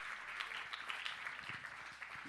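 A church congregation applauds steadily at a distance, a broad continuous patter of many hands clapping without pauses through the whole stretch.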